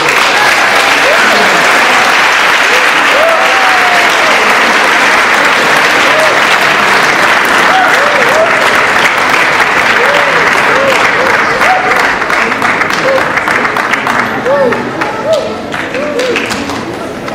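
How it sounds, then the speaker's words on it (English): Sustained applause from an audience at a tri-county science and technology fair ceremony, dense and steady clapping close by that lasts throughout, with a murmur of crowd voices mixed in. "So if we can all give a special round of applause."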